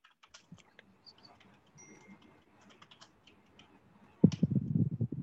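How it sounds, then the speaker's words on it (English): Computer keyboard typing during a quiz, heard as faint, scattered clicks and taps through a quiet stretch, before a person starts speaking near the end. "You can see Bertie typing furiously, so I presume he's bouncing."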